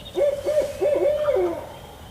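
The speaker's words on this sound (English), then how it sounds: "Got an owl hooting right above me." An owl hoots repeatedly overhead in the early foggy morning during a spring turkey hunt on a ridge, a series of loud, close, rhythmic hoots.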